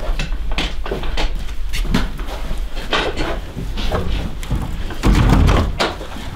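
Barn door sliding open during morning chores at a horse barn, a series of rumbling, clattering knocks and scrapes with a louder heavy rattle near the end, close by.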